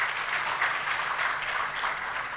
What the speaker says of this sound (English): everybody really needs to give a very loud round of applause